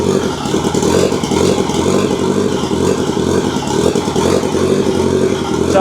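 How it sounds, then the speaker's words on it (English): A beach buggy engine under construction runs steadily at close range with no throttle, a continuous mid-pitched rumble holding roughly level for several seconds. "But the engine runs."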